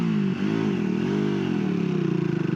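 Triumph Tracker 400 motorcycle lugging in sixth gear, its engine note labouring low and steady, pulsing and shuddering toward a stall, close and loud with no speech.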